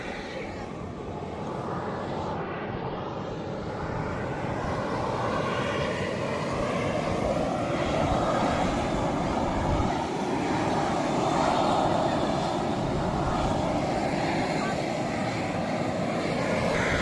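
Steam vent at a Yellowstone hot spring, a steady loud roaring hiss that holds for the whole stretch, with outdoor background and people faintly talking.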